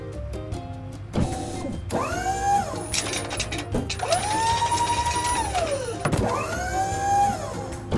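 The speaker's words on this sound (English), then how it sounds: "Pull the lever down to lower it." Bulldozer blade lowering by lever in a construction truck video game, heard as rising and falling mechanical whirs in three long sweeps over a steady engine hum and bright game sound effects, loud and close.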